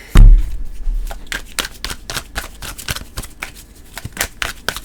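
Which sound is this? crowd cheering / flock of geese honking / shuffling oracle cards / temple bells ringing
shuffling oracle cards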